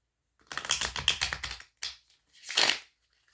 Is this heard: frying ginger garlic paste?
no